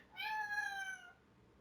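A house cat meows once, a clear drawn-out cry lasting about a second, close by against a quiet room background.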